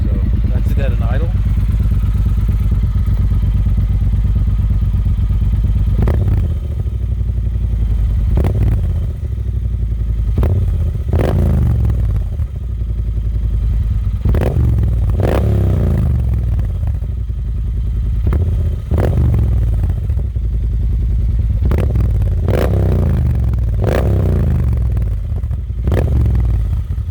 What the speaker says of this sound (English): So that's it at an idle.